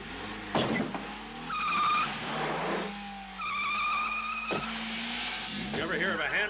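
A car skids through a handbrake turn in a 1988 adventure TV series, with tire squeal and engine noise over sharp impacts, while people talk in the background.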